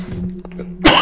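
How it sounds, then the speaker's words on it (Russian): A man coughs once, a sharp, loud burst close to the mic at the very end, after a faint low hum. "заебал кашель этот ебучий"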